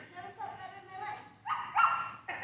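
A person imitates a dog with a few whiny, yelping barks, close and fairly quiet, separated by brief pauses.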